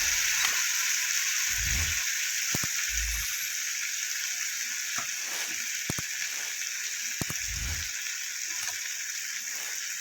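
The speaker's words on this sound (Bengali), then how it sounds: "দিয়ে এবার একটু কিছুক্ষণ ভাজা ভাজা করতে হবে, যতক্ষণ না টমেটোটা নরম হচ্ছে" Tomato, onion, poppy seed, white mustard, ginger and green chilli paste frying in a pan, a steady bright sizzle throughout with occasional stirring knocks and clinks of a spoon against the pan.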